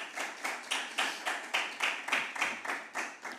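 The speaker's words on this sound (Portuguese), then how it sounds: "pedia-lhe uma salva de palmas a todos os presentes" An audience at a health literacy panel claps in a steady rhythmic beat, about three to four claps a second, sustained and even in a moderately distant room.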